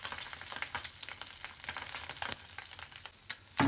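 Sea bass fillet frying skin-side down in a hot pan, a steady close crackling sizzle with scattered pops throughout and a louder burst at the very end, no talking.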